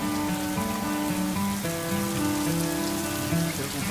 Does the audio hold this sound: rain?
yes